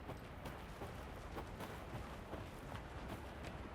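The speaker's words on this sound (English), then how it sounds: "I like the rain." Steady rain pours down in the Alan Wake 2 video game, a dense continuous hiss of falling water with faint patters, heard alone at a constant moderate level.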